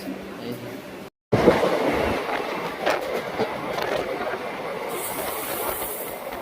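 A train stands at a railway station beside coach D2 on the Howrah–Bolpur line, giving off a steady hiss and rumble that cuts out briefly, then carries on, with voices nearby.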